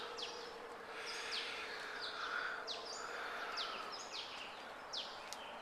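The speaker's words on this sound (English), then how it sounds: "Listen to them birds." Several birds sing and chirp in repeated short phrases around a campsite early in the morning, moderately distant and steady over a soft background hiss, with no talking.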